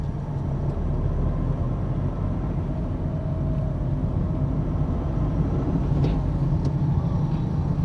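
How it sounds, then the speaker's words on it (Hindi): Steady car engine drone while driving at about 25 km/h during a beginner's driving lesson, a continuous low rumble with road noise that holds loud and even throughout, with no voices. "अब ज्यादा साउंड थोड़ा बढ़ गया गाड़ी का"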